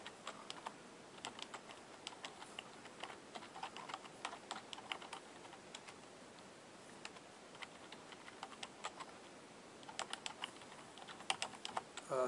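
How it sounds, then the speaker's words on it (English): Typing on a computer keyboard to enter a description, a steady run of quiet, close key clicks with brief pauses and a faster burst near the end, no talk. "I'm going to type in a description."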